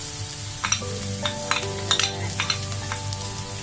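Onion and garlic sauté in a hot pan for a chicken and broccoli stir-fry, with a steady loud sizzle broken by repeated scraping stirs of a utensil against the pan.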